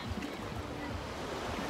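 Soft, continuous wash of waves at Ciberi beach, heard at a distance under light wind noise, fairly quiet, with no clear talk.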